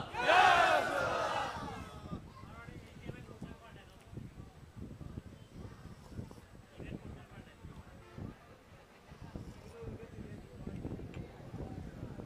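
A large crowd at an outdoor Islamic religious gathering roars a loud collective shout in reply to a takbir call, the burst lasting about two seconds before fading into a murmuring crowd with a voice speaking over it.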